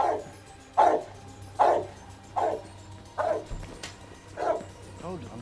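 A dog barks six times in a film soundscape, evenly spaced loud barks standing out close against a low steady background hum.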